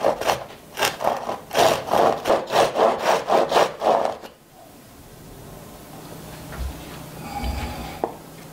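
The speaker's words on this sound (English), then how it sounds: "So first I'm gonna start sawing down the center line." Rhythmic strokes of a hand saw cutting through a wooden guitar top along its center line, about a dozen back-and-forth passes, close and loud, then stopping into quiet with faint handling noises.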